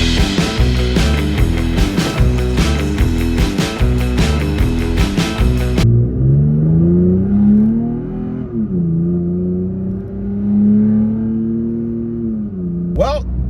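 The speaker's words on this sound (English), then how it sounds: "Just a quick little takeoff with the new exhaust there" A new 4th-gen Toyota Tacoma with a new exhaust takes off, first a loud rhythmic throbbing rev, then a smooth rising engine drone that climbs and shifts through gears before fading.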